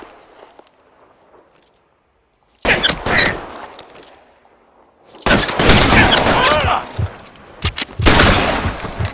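Bursts of gunfire in the video game L.A. Noire, rapid loud volleys of shots in two dense clusters separated by quiet gaps, with faint movement sounds between.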